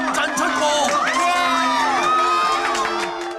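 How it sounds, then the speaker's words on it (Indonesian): Cartoon children, friends of a bowling winner, cheer and whoop in a lively, loud crowd, with high excited voices overlapping throughout. "Kemenangan itu disambut sorak-sorai yang begitu meriah dari teman-temannya."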